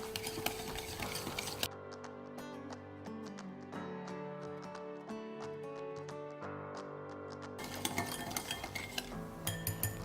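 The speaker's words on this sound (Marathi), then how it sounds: "दही आणि साखर छान मिक्स करून घ्यायचे." Curd and sugar are mixed in a bowl for a Konkani sweet, and a spoon taps and scrapes in a steady, soft rhythm, close and clear, with no voices.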